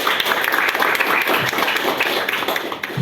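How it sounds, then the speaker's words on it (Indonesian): A crowd of junior high students and staff at a leadership and character-building session applauds, with dense sustained clapping filling the whole stretch at a fairly loud, even level. "Tepuk tangan buat kita semua."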